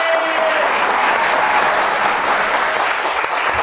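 Loud, close applause fills an Awaz comedy club crowd welcoming guest Murtaza Baloch, a thick continuous roar of clapping that holds at full strength throughout.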